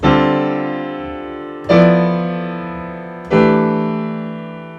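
A jazz piano chord voiced in fourths rings out three times, each struck clearly and left to sustain and decay, with no other sound.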